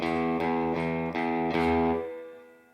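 Distorted electric guitar plays a riff straight rather than swung, a few chugging repeated notes in even rhythm before the last one rings out and fades.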